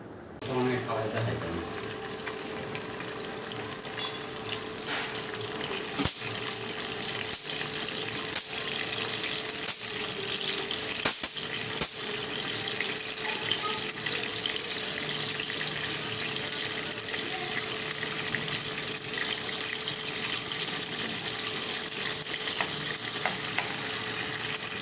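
Cleaned prawns fry in hot oil for a garlic prawn dish, a steady loud hiss and crackle that runs throughout, broken by occasional sharp clicks of stirring and scraping, with a voice talking over it.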